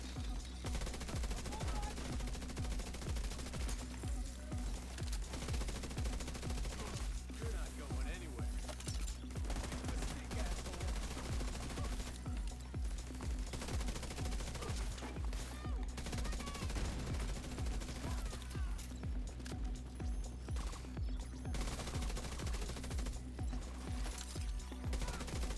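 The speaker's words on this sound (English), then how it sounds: "We're running one of the strongest assault rifles in the game. That's the Kingbreaker assault rifle." Rapid sustained bursts from the Kingbreaker assault rifle in The Division 2, a steady automatic rattle of shots repeating for the whole stretch beneath an ongoing voice and game ambience.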